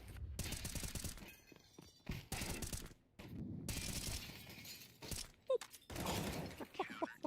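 Bursts of M4 rifle fire in a professional Counter-Strike match, rapid volleys with short gaps and sharp impacts, heard alongside crowd and game noise.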